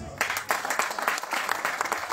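An audience claps for actress Amal Tammar at an honouring ceremony in Kelaat Sraghna, a brisk burst of dense applause with a voice faintly heard beneath.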